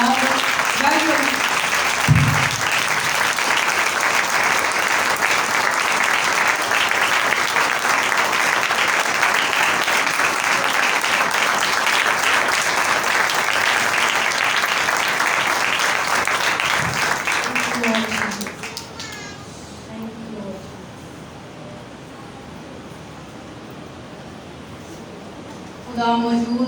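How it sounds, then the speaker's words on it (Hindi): Church congregation clapping loudly at a Hindi-Urdu worship service, a long sustained roar of applause that drops off sharply near the end, with a preacher's voice speaking over and after it. "आए हम तालियों के साथ, जोरदार तालियों के साथ अपने खुदा को वेलकम।"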